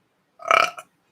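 A single close, loud burp lasting about half a second, with a short tail at the end, in an otherwise quiet room with no talk over it.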